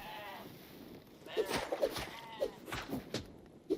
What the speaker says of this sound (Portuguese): Ovelha.